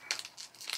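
Crinkly foil wrapper of a Pokémon Vivid Voltage card pack being torn open, a brief, faint few rustles and crackles up close.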